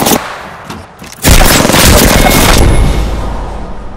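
A grenade goes off in the video game Apex Legends with a loud, sudden blast after a few scattered gunshots, its roar decaying over the next couple of seconds.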